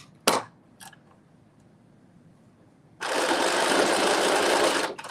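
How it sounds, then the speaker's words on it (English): A sewing machine runs a zigzag stitch on fabric for a cut-out maxi dress, two short clicks at the start, then a steady rapid whirring burst of about two seconds. "we're going to flip it over and then do another zigzag stitch"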